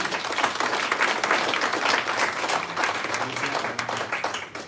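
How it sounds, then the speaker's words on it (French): Steady applause from an audience at a citizens' summit where resolutions are presented, dense and continuous from start to finish, with faint voices underneath. "celles et ceux que j'aimerais qu'on applaudisse"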